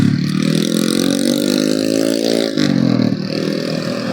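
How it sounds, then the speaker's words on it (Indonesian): A noisy motorcycle engine on a Saturday night ride to Taman Rainbow Alamanda in Bekasi, loud and close, holding a steady drone with a slight rise in pitch and a brief dip partway through. "motor berisik banget."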